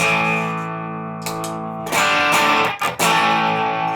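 A sustained electric guitar chord rings, then fresh strums come in louder and grittier with overdriven crunch as an overdrive pedal is switched on with its drive at zero, a brief dropout breaking the sound near the end.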